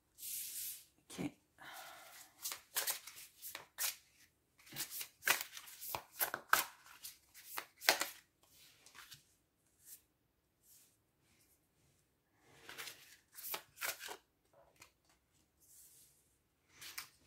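Tarot cards riffle and slap in short, quiet bursts, pausing briefly in between, while a voice speaks softly at times.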